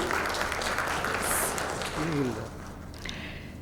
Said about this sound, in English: So a big round of applause for the women in this maritime industry.